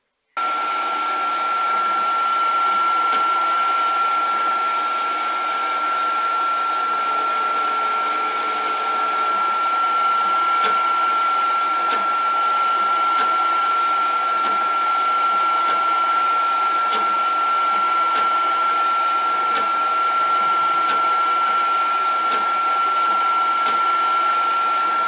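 Snapmaker 2.0 laser engraver etching a picture, giving a steady continuous machine whine with a constant high tone and faint intermittent ticks, loud and unbroken from start to finish.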